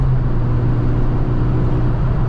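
Steady engine drone from a Ford Fiesta RS Turbo with a freshly fixed turbo, holding a strong low hum with broadband whooshing and no talk over it.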